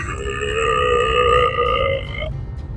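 A voice imitates a bullfrog croak with one long, drawn-out, throaty tone that sounds like a deep burp. It is loud and close, holds for about two seconds and then cuts off.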